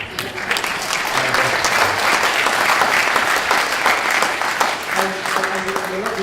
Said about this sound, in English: Round of applause to the Bokhari family